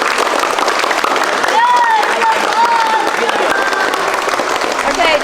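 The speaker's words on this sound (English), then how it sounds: "Round of applause for you all" A group claps steadily in a dense round of applause lasting several seconds, with a few voices calling out over the clapping.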